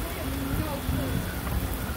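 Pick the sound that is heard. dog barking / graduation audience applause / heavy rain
heavy rain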